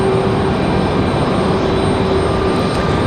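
An airplane on the runway at Raleigh-Durham airport, a loud steady engine roar with a sustained whine, continuous and fairly close, no talking.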